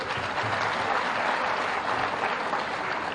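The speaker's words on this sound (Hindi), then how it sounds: "तो क्यों ना अच्छे से तालियां भी बजा दी जाए" An audience at a tea-and-discussion event with a chief minister breaks into sustained applause, many hands clapping close and loud at an even intensity for several seconds without speech on top.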